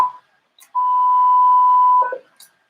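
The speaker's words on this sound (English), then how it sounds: "when my own timeout timer kicks in" A radio transmitter's timeout timer sounds on an amateur radio net: a short chirp, then a loud, steady electronic tone held for over a second before cutting off with a brief garbled tail.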